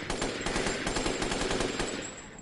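Rapid gunfire in Resident Evil Village, a fast, steady run of shots that keeps up for about two seconds before easing off slightly, with no talk.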